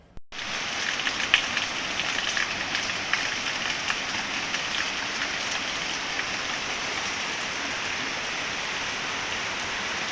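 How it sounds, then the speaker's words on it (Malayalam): Heavy rain pours down outdoors, starting abruptly and then holding as a dense, even hiss of drops on surfaces, loud and unbroken throughout. "നല്ല മഴയാണ്"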